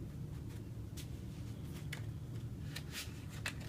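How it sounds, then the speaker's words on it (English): Soft crisp riffles and snaps of a Bicycle Flying Machines playing card deck being shuffled, a few quick bursts over a low steady hum, no voices. "In shuffling, I shuffle as you expect a standard bicycle deck to shuffle as."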